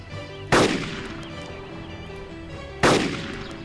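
Two loud, sharp gunshots from the video game DayZ Epoch, spaced about two seconds apart, each with a long decaying tail over a low steady game background with no talk.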